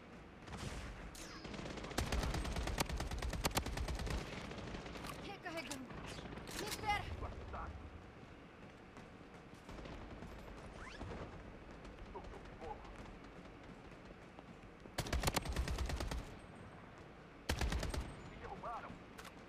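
Rapid bursts of gunfire in a shooter video game, dense automatic volleys in several clusters with quieter gaps, a voice talking over parts of it.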